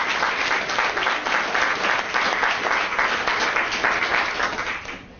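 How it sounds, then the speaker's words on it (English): An audience at a college campus event applauds steadily throughout, dense clapping that stays loud and even before fading slightly in the last moment. "So she deserves a great round of applause for all of that."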